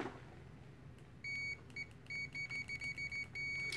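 A UNI-T UT123 multimeter in continuity mode gives a series of short, high, clean beeps, first single then several quick chirps and a longer sustained tone, close up over faint background hum.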